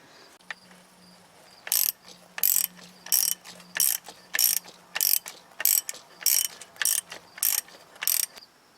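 A ratchet tightens a strut bolt on a Rough Country lift kit for a Chevy TrailBlazer or GMC Envoy, giving eleven loud, evenly spaced ratcheting bursts up close.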